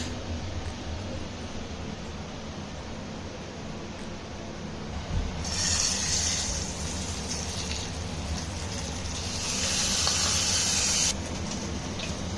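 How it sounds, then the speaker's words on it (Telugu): A hot tempering of oil and spices hits a freshly ground chutney for idli and dosa, giving a soft hiss that swells into sizzling bursts partway through and again near the end, fairly quiet overall. "ఇప్పుడు తాలింపు వేసుకున్నాం"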